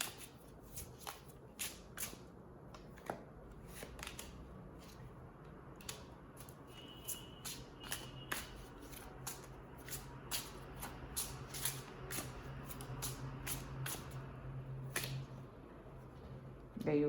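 Oracle cards shuffled and drawn by hand: a steady run of crisp, quiet riffles and snapping card flicks, close up, with soft handling sounds between them.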